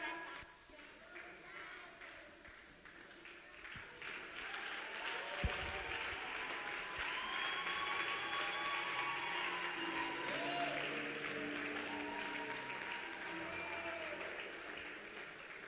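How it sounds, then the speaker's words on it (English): Sustained applause from a church congregation, steady clapping that swells and holds throughout, with some tonal music or voices faintly underneath. "let's give them another round of applause"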